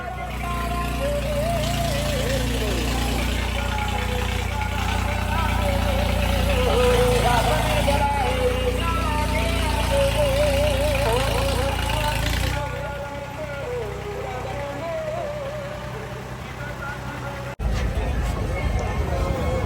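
A tractor with an extra-long bumper extension idles at the Hola Mohala festival in Anandpur Sahib, a low steady engine rumble running throughout beneath loud crowd noise, music and voices.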